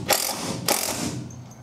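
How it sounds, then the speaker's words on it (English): An impact driver drives original caps and screws into a resealed window on a school bus conversion, giving two loud bursts of rapid ratcheting hammering close by, the second longer and trailing off, with no talk. "go in with the impact driver"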